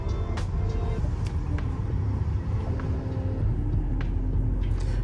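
A V8 in a 2024 Nissan Titan Pro4X pickup truck idles with a steady, loud low rumble throughout, marked by a few faint clicks on top.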